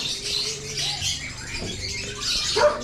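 Caged African lovebirds chirp and squawk at a bird farm in Marikina, with thin, high, scattered calls overlapping at moderate distance against steady background chatter and noise.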